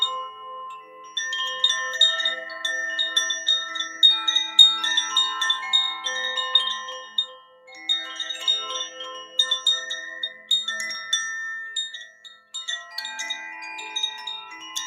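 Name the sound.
chimes in a sound healing session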